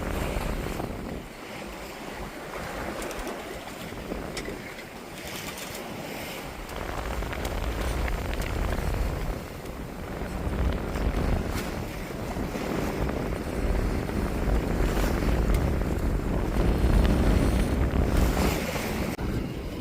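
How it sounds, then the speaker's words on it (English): A sailboat offshore off the Carolinas is jostled by confused seas, with waves from different directions washing against the hull under constant roaring wind and microphone buffeting, and no voices. "these random waves come from different directions that knock us around"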